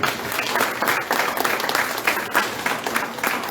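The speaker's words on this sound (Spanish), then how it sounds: "Denle un aplauso grande al Señor." A church congregation gives a big round of applause, sustained clapping from many hands with rhythmic surges, steady and close throughout.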